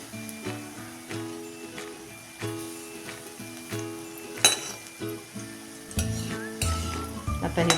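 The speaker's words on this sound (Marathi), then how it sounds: "ह्या थोड्या तेलाच्या वापरातच आपण ही भजी तळून काढायची आहे" Bhaji fritters fry in a small amount of oil in a kadhai, a close, steady sizzle broken by rhythmic stirring scrapes and a few metallic clinks of utensils against the pan.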